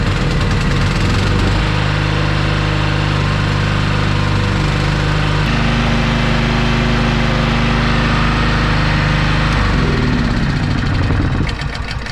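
A Honda GX200 petrol generator engine runs loud and close, a steady buzzing drone with shifting tone as its speed changes, continuing without pause before fading slightly at the end.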